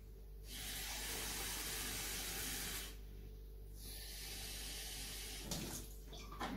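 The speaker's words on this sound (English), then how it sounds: "So the first thing I'm going to do is fill them with water." Water pours steadily into two AeroPress coffee makers, a continuous loud rushing hiss that stops briefly partway through and then resumes.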